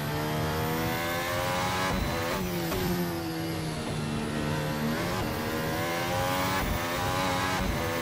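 A Formula Hybrid 2017 race car in Assetto Corsa screams along at about 300 km/h on the Nordschleife, a loud, sustained high-revving engine whine with brief pitch dips at gear shifts, heard alone.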